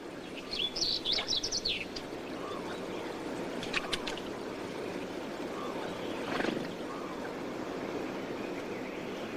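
Birds chirp and call by the springs of Engedi, a short bright burst of song early on followed by a few scattered tweets over a soft wash of running water, moderately close with no voices.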